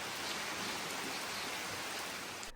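Steady rain falls in Raja Ampat, Indonesia, a dense, even hiss of drops on surfaces that holds throughout and cuts off abruptly at the very end.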